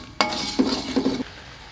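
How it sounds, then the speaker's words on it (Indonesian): Rendang sauce with sugar, seasoning and salt stirred in a pan alongside egg, tempeh and tofu: a sharp scrape followed by two short rhythmic stirring strokes, close and fairly loud, without talk. "Terus garam, terus kita aduk-aduk lagi."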